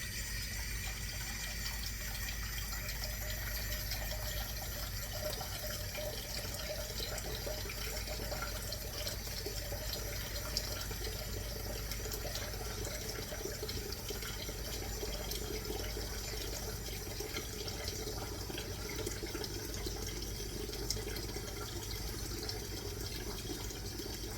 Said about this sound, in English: Add hot water to your bowl.